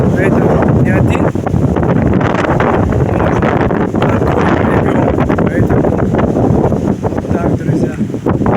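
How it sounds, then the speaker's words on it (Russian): Strong gusting wind by a stormy, rough sea, loud and steady as it roars across the microphone with constant buffeting and rumble and no clear breaks. "Иногда ветер сильно поднимается, поэтому невозможно гулять."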